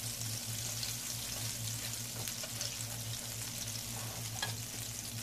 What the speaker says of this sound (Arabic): طبعا نستنى على هذه الزبدة تذوب.